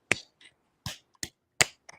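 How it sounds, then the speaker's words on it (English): Slow, sparse claps, four or five single sharp hits spaced unevenly over two seconds, close and crisp against silence. "How do we do a slow clap, Kat?"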